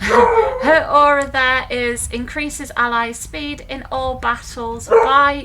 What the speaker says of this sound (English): Sorry about the dog, by the way.